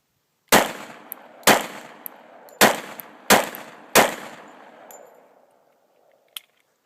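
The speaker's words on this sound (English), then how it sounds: "So I'm going to shoot it out of the XDs." Five sharp, loud .45 ACP pistol shots from a compact Springfield XDs fired with low-recoil ammunition, spaced about a second apart outdoors, each with a ringing tail, followed by a faint metallic clink.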